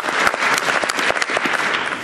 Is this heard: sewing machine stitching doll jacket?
no